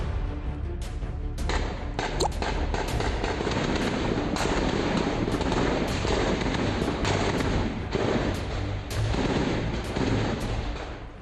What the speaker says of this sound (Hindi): जब इन धमाकों का शोर कुछ कम हुआ